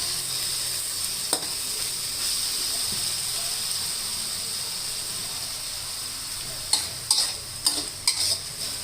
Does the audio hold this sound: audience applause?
no